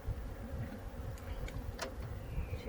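Bees inside an open hive box hum in a steady low drone, close and continuous, with a few faint brief rattles on top and no talking.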